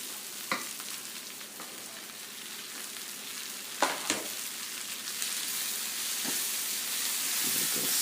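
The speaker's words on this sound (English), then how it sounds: "Stir it together." Venison chilli frying in a pan, with a steady sizzle and hiss throughout and several sharp scraping clicks as it is stirred, fairly close and with no voices.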